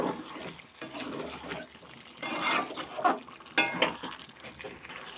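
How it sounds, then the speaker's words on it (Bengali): Ground poppy seed paste is stir-fried with chicken in a pan, giving a soft, uneven sizzle under repeated scraping and stirring strokes, close and moderately loud, with no speech. "এবারে নাড়াচাড়া করে ভালো করে পোস্তর গন্ধটা যাওয়া পর্যন্ত কষিয়ে নেব।"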